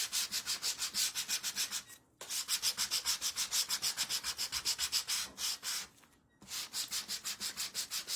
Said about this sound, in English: I'm going to sand them together.